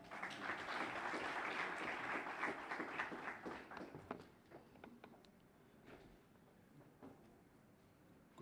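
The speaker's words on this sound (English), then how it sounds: "You can clap hands for him all." An audience at a Home Affairs border management and anti-corruption launch claps for the welcoming speaker; the clapping is fairly dense at first, then thins to scattered claps, quiet and a little distant.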